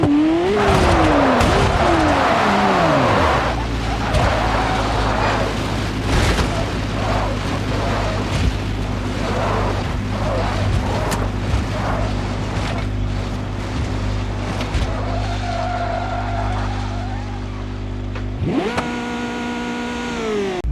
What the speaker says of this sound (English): McLaren Senna.